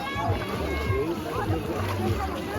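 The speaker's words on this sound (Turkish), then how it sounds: "atlıyor ve karşıya kadar yüzüyor" A child jumps into a pool and swims across, giving soft, rhythmic sloshing splashes with steady strokes, heard under a voice talking nearby.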